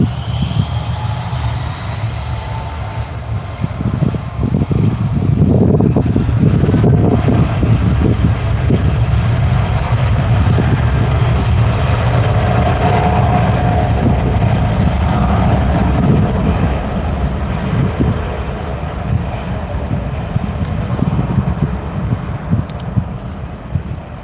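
A plane taking off on runway 14 at an airport on the Queensland-New South Wales border, with a loud, sustained engine roar that swells in the middle and holds steady as it rolls down the runway.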